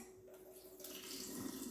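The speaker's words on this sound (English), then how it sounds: "drain the water out" Soaking water drains from a batch of artichoke hearts into a sink, starting as a faint trickle and swelling into a steadier close splashing flow partway through.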